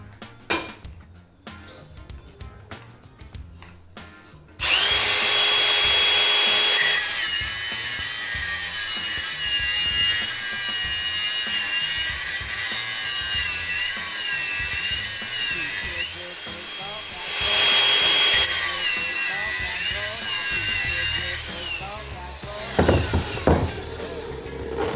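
A power tool cutting through a metal pipe tube during modification work on a Toyota Caldina ST215, a loud, steady, high-pitched grinding whine that runs in long stretches with short pauses between passes.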